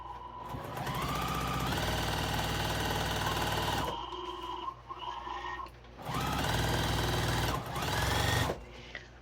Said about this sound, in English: I'm just going to top stitch right down that rolled seam so that we get that